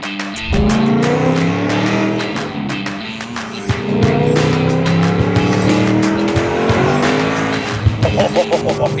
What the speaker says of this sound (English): let's go for a little test drive, huh?